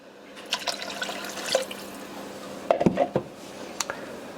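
Water is poured into a stew pot while making green chili chicken stew, giving a brief cluster of splashing and trickling near the mic in a quiet kitchen, with a few light clinks before and after.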